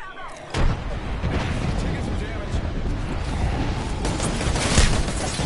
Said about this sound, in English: That's an airstrike.